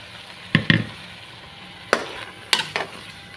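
A spoon scrapes and stirs a blended yogurt and tomato paste into prawn biryani masala with moong dal in a pan, making several distinct close scraping strokes over a faint simmer, with no talk.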